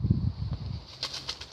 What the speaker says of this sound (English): The pigeons making a bit of a din.